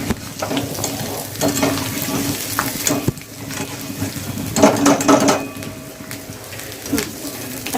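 Potatoes fry in a pan of oil with a crackling sizzle that swells and fades as they are stirred and moved, with spatula scrapes and a brief splash of water, no talking.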